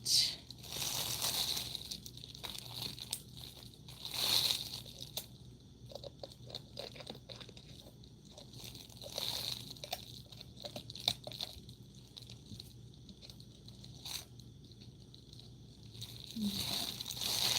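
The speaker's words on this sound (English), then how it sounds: "open the resin container here and get that" A plastic resin container being opened for resin art, giving crinkly crunching and crackling handling noises that recur steadily throughout at moderate, close range with no talk.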